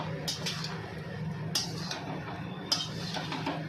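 Soft stirring of red chili powder and spices into food in a pan over a gas flame, with a few light metallic taps and scrapes of a spoon against the pan in a quiet kitchen.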